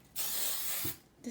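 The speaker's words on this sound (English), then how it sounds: "and also I just spray" Hairspray from an aerosol can released in one short hissing burst of about a second, close and clear, followed by a brief start of another spray.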